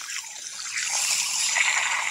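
Water rushes steadily from an opened drain valve at the base of a water heater, a close, continuous hiss and gurgle that swells slightly after the first moment.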